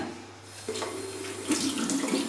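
Tap water running into a bathroom sink to rinse a toothbrush, a steady close splash that grows slightly busier as it goes on, with no voices.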